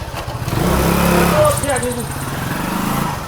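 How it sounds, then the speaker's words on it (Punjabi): A motorcycle engine is started and runs with a low, steady rumble that swells briefly as it revs, while people talk nearby over it. "ਚੱਲ ਤੂੰ ਮੋਟਰਸਾਈਕਲ ਕੱਢ"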